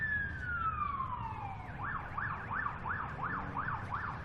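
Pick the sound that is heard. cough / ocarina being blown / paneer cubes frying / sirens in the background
sirens in the background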